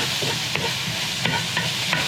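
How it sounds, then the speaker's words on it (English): Vegetables sautéing in a pan with peppers added, making a steady soft sizzle broken by a few scraping stirs of the utensil, with no talking. "Once these start getting nice and brown and sauteed, I'm gonna add our peppers and just let them get softened."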